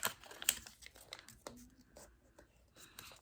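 Paper being folded into an origami squirrel, with soft crinkling and rustling handling sounds close by, a sharp crackle near the start and quieter scattered creases after.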